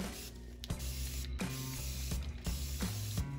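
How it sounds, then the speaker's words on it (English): Several short hissing bursts of alcohol from a spray bottle onto resin, repeated in quick succession over a steady mechanical hum. "I'm gonna spray it and repeat the process"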